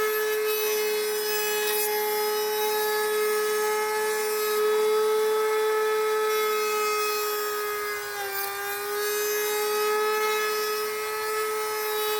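A saw steadily cuts a camo-pattern print blank with a loud, even whine and strong ringing tones. It runs continuously with a brief dip near the end, and no one talks.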